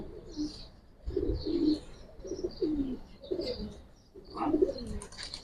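Black-beaked Bagha and silver Giribaz pigeons coo in low, repeated throaty rolls, several phrases close by with faint chirps between them.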